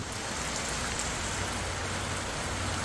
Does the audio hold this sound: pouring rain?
yes